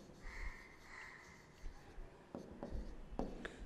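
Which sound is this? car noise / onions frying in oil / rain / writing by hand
writing by hand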